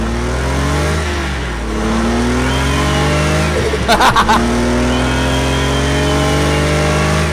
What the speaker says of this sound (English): Oh my god, I love the blow-off valve.